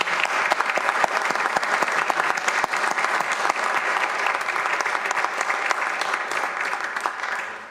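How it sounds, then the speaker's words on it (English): A city council meeting audience gives loud, dense applause for Metrocrest service. The clapping is steady and sustained throughout, with no speech over it. "Round of applause for Metrocrest service."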